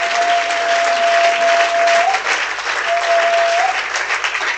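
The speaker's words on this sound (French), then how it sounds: "on peut acclamer très fort pour la présence." Loud, dense applause from a church audience fills the whole stretch steadily, with a faint sustained tone running beneath it in two spans.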